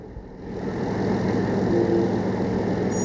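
A Toyota GR Supra's engine at a race event, rising from a low idle into a sustained steady roar that holds loud through the end, without any clear sharp revs.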